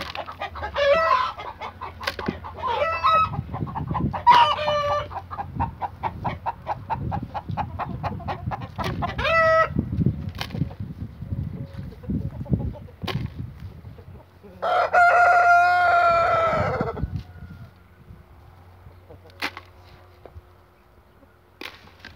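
Backyard roosters kept with laying hens crow loudly and close by in repeated long calls, with clucking in between, as someone talks softly at times.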